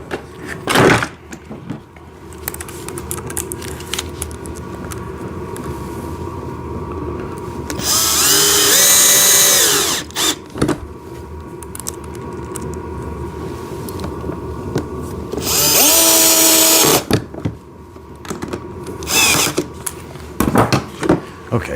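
Power drill driving silver screws into the bucket of a blue and red JCB ride-on toy tractor excavator, two loud whirring bursts of a few seconds each over a background of handling clatter and quiet voices.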